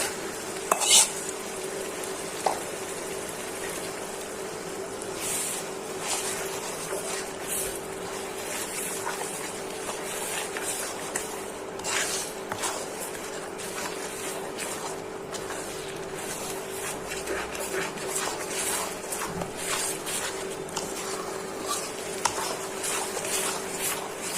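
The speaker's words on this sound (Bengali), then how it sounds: "এখন মশলাটা কষানো হয়েছে, বাটা শুটকিগুলা দিয়ে দিচ্ছি" Spice paste with ground dried fish fries in a pan, a steady soft sizzle with scattered stirring and scraping clinks of a utensil on the pot, close and moderately quiet.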